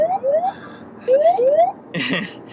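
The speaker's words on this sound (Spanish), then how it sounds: "Alarma sísmica." An in-car alert beeps as a series of short rising electronic chirps in two pairs, loud and close inside the moving vehicle, followed by a brief clatter of other noise.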